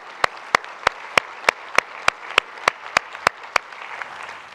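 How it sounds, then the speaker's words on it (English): An audience at a church congregational meeting claps for the staff: about a dozen sharp, evenly spaced claps ring out close and clear over a faint room background. "So I really think our staff also deserve a tremendous round of applause"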